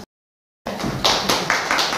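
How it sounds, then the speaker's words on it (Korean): An audience at a Buddhist dharma talk on college entrance exam day breaks into applause after a brief silence, with a handful of sharp, close claps rising and falling in a short burst. "박수 치라, 박수 쳐요"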